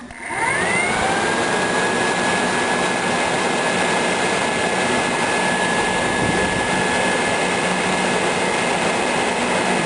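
A transmission cooler fan built to cool a 727 TorqueFlight in a Chevy Cummins project runs on a test, spinning up quickly into a loud, steady whooshing roar of moving air with a rising whine, no talking.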